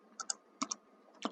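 Computer keyboard keys typed in three short bursts of two or three close, crisp clicks each, separated by brief pauses, clear and alone with no voices.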